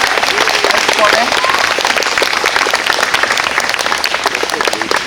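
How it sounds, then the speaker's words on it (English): Dense, loud applause fills a hall after a singing performance at an Indigenous Peoples Day event at Harvard, steady and sustained throughout with no break. "Applause to both Keanu and Kennard for beautiful singing and performing."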